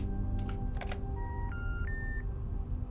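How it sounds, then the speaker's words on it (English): Electronic telephone tones from the In Sound Mind video game: a couple of short dialing blips, then steady and alternating beeps of a line tone, clear over a low ambient hum with no talk. "Dial tone."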